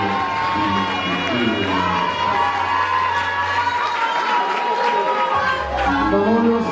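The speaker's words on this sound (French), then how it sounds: "Merci de bien applaudir pour Maman Loso" Audience applauding and cheering at an awards ceremony, a loud continuous wash of clapping, whoops and crowd chatter that holds steady throughout.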